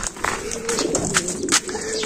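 Racing pigeons coming home to the loft during a race, with soft cooing and wing flutters close by, brief bird calls scattered over a low steady hum and a faint voice in the background.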